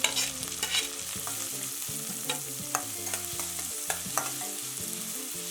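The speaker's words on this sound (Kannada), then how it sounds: "ಮೆಣಸಿನ್ಕಾಯಿ ಸ್ವಲ್ಪ ಫ್ರೈ ಆಗಿದೆ ಈರುಳ್ಳಿ ಹಾಕ್ಕೊಳ್ಳೋಣ" Onions and curry leaves, with green chillies, fry in oil for soft avalakki oggarane (kanda poha), a close continuous sizzle punctuated by scattered spatula clinks and stirring taps, under steady background music.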